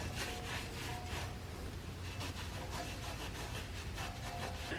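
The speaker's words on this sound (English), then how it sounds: "I'm gonna clean the rotor up a little bit." Steady, moderately quiet back-and-forth rubbing as a Toyota Tacoma brake rotor is wiped clean of grease, a continuous scrubbing texture with soft rhythmic strokes and no talk.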